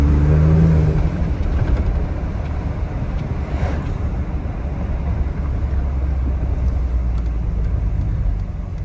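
Ford F-150 Raptor pickup cruising in sport mode, a steady low engine and road drone with wind rush throughout, smooth and even with no sharp revs.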